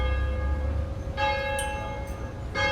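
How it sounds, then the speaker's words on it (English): Church bells ring out in clear, sustained strikes, a few fresh peals arriving over a lingering hum, moderately loud with no talking. "I hear the bell's ringing now, so that means everybody's getting ready to go to church."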